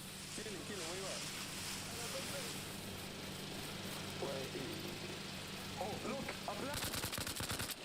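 Gunfire in the video game Arma Reforger, with bursts of shots cracking through a steady droning background, intensifying into rapid loud fire near the end while voices talk underneath.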